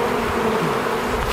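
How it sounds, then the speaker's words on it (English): Honey bees buzz loudly and steadily right after being shaken down into a hive box, a dense, close swarm drone with no voices. "one swift shake knocks most of the bees down into the box below"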